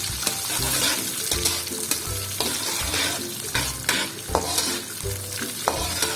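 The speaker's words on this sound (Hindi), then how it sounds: "बादाम जो भिगो के उसको छील लिया है और इसको हमने इसमें फ्राई करना है" Soaked, peeled almonds and raisins stirring and frying in butter in a pan, a steady close sizzle broken by repeated scraping and clattering strokes of a spoon against the metal, with no talking.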